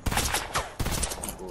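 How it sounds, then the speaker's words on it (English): Rapid gunfire bursts from the video game Fortnite, several sharp cracks in quick succession, with game ambience between them. "He's shooting at me."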